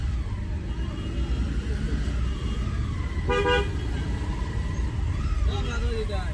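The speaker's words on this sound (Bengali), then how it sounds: "হর্ন" A car horn toots briefly in the middle, standing out over a steady rumble of road traffic and background voices.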